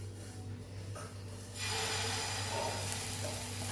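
Dosa batter poured onto a hot tawa (griddle) for Mysore dosa breaks into a steady, close hiss that fills the second half after a quieter start.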